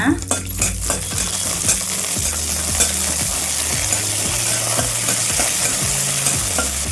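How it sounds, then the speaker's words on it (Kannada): Peanuts and curry leaves roasting in hot oil for a bitter melon chutney powder, giving a loud, continuous close sizzle and crackle with scattered clinks and scrapes of a spoon stirring. "ಎಣ್ಣೆ ಬಿಸಿ ಆದ ಕೂಡಲೇ ಎರಡು ಸ್ಪೂನು ಕಡಲೆ ಬೀಜ ಅದರ ಜೊತೆಗೆ ಕರಿಬೇವು ಹಾಕಿ ಹುರ್ಕೊಳ್ಳೋಣ"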